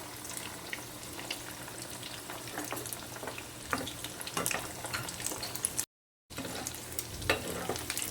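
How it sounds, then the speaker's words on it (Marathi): Fasting kadi vadas fry in a pan, a continuous close sizzle with occasional scrapes and clicks as pieces are turned, broken by a brief silent gap before the frying resumes; no talk. "असे छान तळायचे उलटे सुलटे करून"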